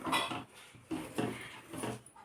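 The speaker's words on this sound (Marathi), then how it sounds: "कमी गॅसवर आपल्याला हे एकसारखं मिक्स करून घ्यायचं आहे" Milk powder peda mixture stirred in a pan over low heat, with a spoon scraping and knocking on metal in three or four slow, close strokes and a soft continuous rub between them.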